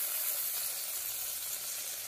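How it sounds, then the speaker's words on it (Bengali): Pomfret fish frying lightly in a little oil in a pan gives a steady, close hiss and crackle of sizzling, even and continuous with no talk. "খুব কড়া করে ভাজলাম না"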